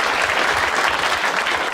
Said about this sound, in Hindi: एक बार ताली बजाओ इसके लिए सब लोग।